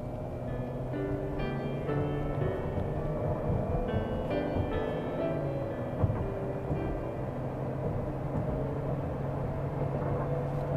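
A 2006 Chrysler 300 Touring with a 3.5 liter V6 cruising at highway speed, steady low engine drone and road rumble with broadband wind and tire noise, continuous and fairly loud without talk.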